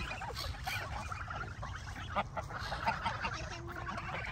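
Ducks and geese honk and quack in a noisy cluster nearby at Furzton Lake, Milton Keynes, over a low outdoor background rumble.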